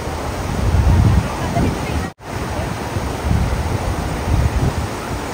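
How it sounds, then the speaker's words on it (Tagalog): Sobol Falls, a shallow waterfall where people are swimming, a loud steady rush of falling water close by with wind buffeting the microphone and a brief dropout partway through. "Ayan po ang tinatawag nating Sobol Falls."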